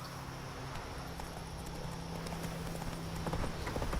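Horse Roach's hooves in The Witcher 3 clip-clop steadily throughout, a walking rhythm of even beats with faint game ambience and a low musical drone underneath.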